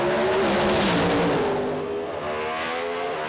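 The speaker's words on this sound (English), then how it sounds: "Great drag race right here to the stripe." Drag racing cars blast down the strip at an IHRA North American Nationals event, a loud, dense engine roar that swells and then eases slightly as they pull away.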